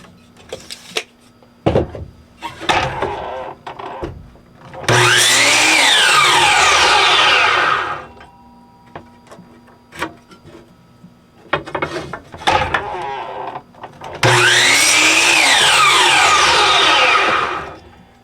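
A power saw cuts through wood in two long bursts, each a loud rising whine and rasp, separated by clunks and handling noises.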